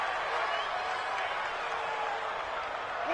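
Home crowd in a PS4 football video game roaring steadily after a penalty call, a dense, continuous wash of cheering with no break across the moment.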